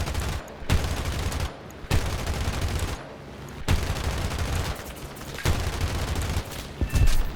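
Heavy gunfire in a War Thunder realistic tank battle with a German Waffenträger: several loud, sustained bursts and booming shots separated by short lulls, close and dense, with no talk.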